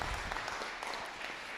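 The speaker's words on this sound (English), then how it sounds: "Another round of applause." A crowd applauds at a Bay City, Michigan city meeting, giving steady, dense clapping that holds at an even, fairly faint level throughout with no talking over it.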